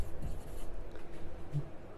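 Soft scratching strokes of writing on a board during a grammar lesson, faint and close, with a few short marks in quick succession over a low room hum.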